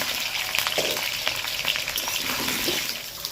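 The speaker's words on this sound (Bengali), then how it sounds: "আলুগুলো ওদিকে ভাজা হচ্ছে।" Potatoes frying in fully heated oil for a winter fenugreek chicken dish, giving a steady close hiss and sizzle with small crackling pops and no one talking.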